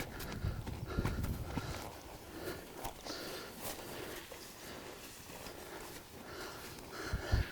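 A performance horse's hooves clip-clopping on a surface during a horsemanship clinic at an equine event, a series of irregular nearby hoof strikes with some snorting and shuffling in between.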